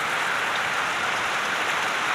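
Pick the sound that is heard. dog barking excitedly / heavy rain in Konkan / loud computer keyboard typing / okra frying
heavy rain in Konkan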